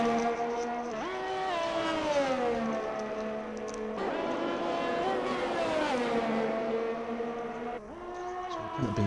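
Onboard a race car on a soft-tyre qualifying lap at Jeddah, the engine screams close and loud as it climbs through the gears, dropping sharply at each shift and under braking, with commentary running over it.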